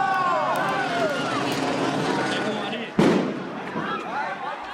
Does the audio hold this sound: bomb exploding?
yes